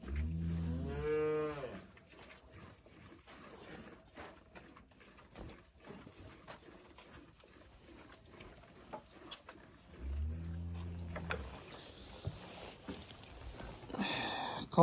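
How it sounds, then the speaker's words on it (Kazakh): Village cows low loudly and close by, one long drawn-out moo early on and another later, with quiet rural background noise between them. "қалған сиырлар далада"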